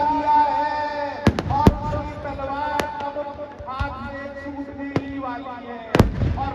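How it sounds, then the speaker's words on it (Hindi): Fireworks burst overhead at a Dussehra Ravan-burning celebration in Ajmer, several sharp loud bangs scattered through a continuous crowd din while someone talks over it. "आप आकाश में जोरदार आतिशबाजी देख रहे हैं"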